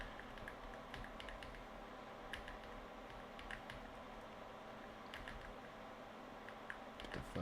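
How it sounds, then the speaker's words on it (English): A mechanical keyboard clatters under hard, fast typing, with dense uneven clicks and heavier strikes over a constant background noise. "You're gonna hear me smash my keyboard"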